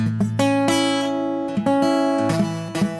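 A strummed acoustic guitar chord repeated several times, some strings sounding dull and buzzy rather than ringing clearly.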